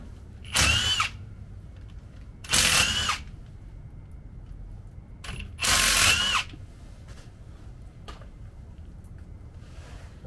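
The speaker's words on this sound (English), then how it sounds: "Take the bottom 5 bolts out." Three short bursts of a power tool spinning out the bolts on a truck's rear differential cover, each lasting about a second, separated by quiet gaps with faint background noise.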